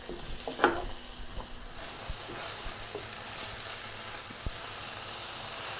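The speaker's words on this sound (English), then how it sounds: "So I'm just going to let all this cook together until that ground beef is cooked completely through." Ground beef sizzles in a pan with a broad, even crackling hiss that sounds like light rain, plus a couple of faint utensil knocks near the start.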